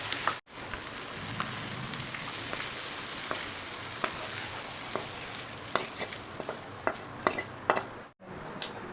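Onion, ginger and garlic frying in a pan for a spicy village-style whole chicken masala, a steady crackling sizzle with scattered sharp ticks and spatters, no speech.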